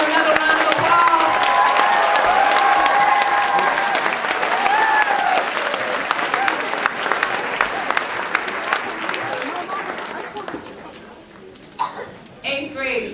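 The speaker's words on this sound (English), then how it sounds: "let's give them another round of applause" An audience of families gives a sustained round of applause at a middle school recognition ceremony, loud clapping that gradually thins out and fades, with some voices and brief cheers near the end.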